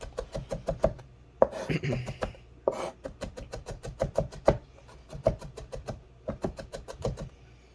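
A knife chops garlic on a cutting board for a Vietnamese fish dipping sauce, rapid steady taps in quick runs with short pauses, close and crisp, with brief bits of a voice talking between runs.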